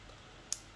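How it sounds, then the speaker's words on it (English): A single sharp click from the lever on a Suprent HC 355 hair clipper, one brief snap about halfway through against a quiet background hum. "And got click lever"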